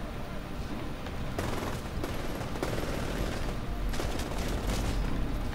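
Sustained automatic gunfire in the video game Titanfall, loud rapid bursts sprayed at NPCs, firing continuously with brief crackling peaks and no talking.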